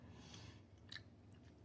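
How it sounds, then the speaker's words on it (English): Close crunchy chewing of a crispy toasted-cheese black bean quesadilla, with a few faint bites and rustles at low level and no talking. "Sounds crispy."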